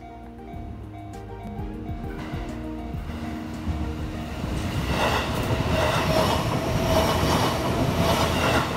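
A train on the Ome Line passes the Sotokuji railway crossing in Japan, its rumble and rattling wheels swelling from a quiet start to a steady loud roar, with no one speaking.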